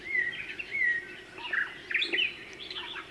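Birds call and chirp in Hawaii, a series of bright, varied whistled notes rising and falling at moderate distance, with no talking.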